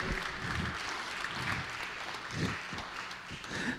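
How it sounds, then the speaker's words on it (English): Church congregation giving a clap offering during a traditional service, a sustained wash of applause throughout with scattered louder claps near and far. "give the Lord a clap offering for what he's doing"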